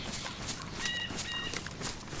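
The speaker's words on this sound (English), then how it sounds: "A lot of birds in this woods." Birds chirp and call in a DayZ woodland, with short high tonal trills standing out twice over a steady bed of forest ambience, moderately faint and continuous.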